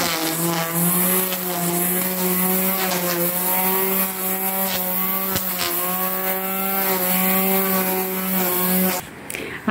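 A lawn mower cuts grass close by, its engine a steady loud droning whine held for most of the stretch before it briefly dips near the end, with no voices.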